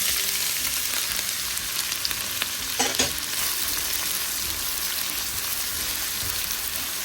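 Chopped onion and green chilli frying in hot oil with black cumin seeds, a steady close sizzle with a few brief stirring scrapes, no voices.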